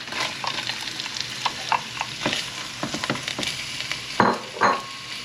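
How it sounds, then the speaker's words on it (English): Onion fries in a pot for an alligator curry, a close, crackling sizzle broken by repeated scraping and clattering as it is stirred. "So at this point now, I'm going to add my onion."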